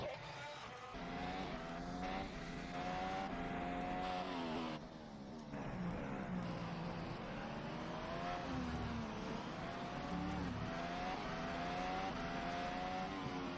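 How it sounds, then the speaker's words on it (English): Race car engine at the Seattle Grand Prix, loud and continuous with rising and falling revs as the car loses control and strikes the wall, with a brief dip in the middle. "And then going through here, just loses the car. And smacks into the wall."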